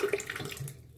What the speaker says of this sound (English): So I'm gonna take my cloth and I'm just gonna damp it really good.